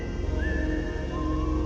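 A man whistles in a horror story: a brief, thin whistled tune with gently sliding notes over a dense, low droning background.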